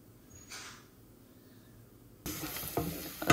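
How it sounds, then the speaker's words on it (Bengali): Garlic drops into hot oil as a tempering for a tengra fish curry. After a quiet start with a brief hiss, it bursts into a loud, close, crackling sizzle that continues to the end. "আমি রসুন দিয়ে বাগার দিলেই এরাম রসুন লাল হয়ে গেছে"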